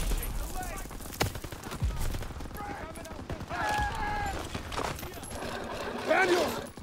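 Rifle and machine-gun fire from a World War II battle in Call of Duty: WWII crackles as a continuous fusillade of near and distant shots, with shouted voices and battle noise mixed in.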